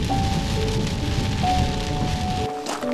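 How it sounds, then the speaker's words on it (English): Heavy nighttime rain in Glencoe, Scotland drums hard and steadily on surfaces nearby, a loud dense patter that fills the whole stretch and thins slightly toward the end. "Rain's coming down so hard."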